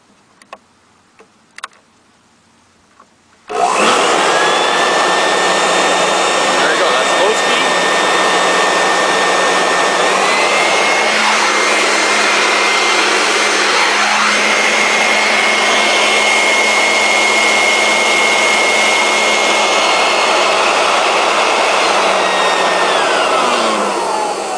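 A plug-in electric leaf blower for home use switches on after a few faint clicks and then roars loudly and steadily, a close whine-laden rush of air holding for about twenty seconds.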